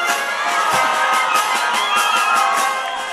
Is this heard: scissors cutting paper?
no